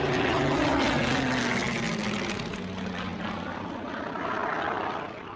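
A Spitfire fighter's piston engine drones in flight as the aircraft passes in close formation, a loud broad roar that peaks early and gradually eases.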